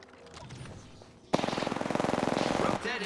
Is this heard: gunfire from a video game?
yes